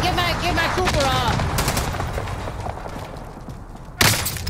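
Bursts of rapid gunfire in Call of Duty Warzone crackle over excited shouting voices, fading down before a single loud sharp shot or impact near the end.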